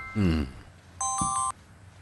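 A phone rings with an incoming call in a Turkish drama scene: one short electronic ring burst, clear and close, after a brief vocal sound, with quiet room tone around it.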